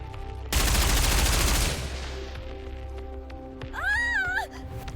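A rapid, loud burst of experimental suppression rounds fired in the video game NIKKE, a dense rattling volley lasting about a second before trailing off, followed by a cat-like meowing cry.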